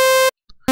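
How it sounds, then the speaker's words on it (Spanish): A bright, buzzy sawtooth synthesizer tone, for a hardstyle screech sound, cuts off abruptly, leaving a short gap with faint blips, then returns just as loud. "tenemos aquí nuestro sonido de diente de sierra"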